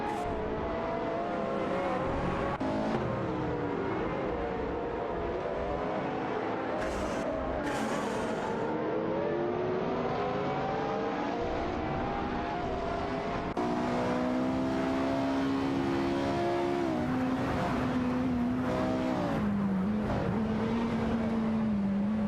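Race cars lapping in an AI-driven racing video game, steady loud engine drone with rising and falling pitch sweeps as several engines shift and pass, continuous throughout with no voices.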